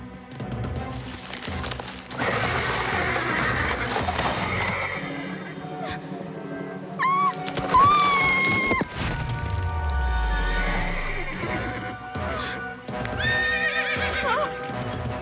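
A horse whinnies loudly several times over clip-clopping hooves in a cartoon, with thumps and heavy stamping; a voice is heard briefly among the sounds.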